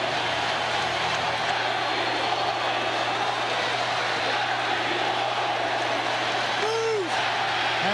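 A packed Madison Square Garden hockey crowd chants 1940 after the New York Rangers win Game 7 of the 1994 Stanley Cup Finals over Vancouver, a dense, sustained roar of many voices with a brief whistle-like swoop near the end.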